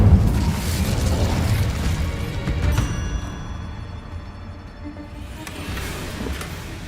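The Incendio fire spell going off in Hogwarts Legacy: a loud, deep rumbling burst that opens at full force, then rolls and fades over several seconds into a softer roar, with no voices.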